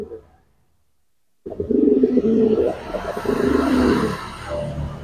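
Pigeons being trained to drive and court coo in low, throaty bursts that start abruptly after a brief silence and carry on steadily, fairly loud and close, over a faint background hum.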